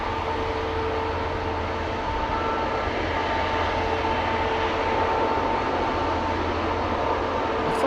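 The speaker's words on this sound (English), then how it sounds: "a successful liftoff of Iberia Express" An Iberia Express jet on its takeoff roll at Amsterdam Schiphol Airport gives a steady, broad engine roar with a faint whine on top, fairly loud and unbroken throughout, with no one speaking.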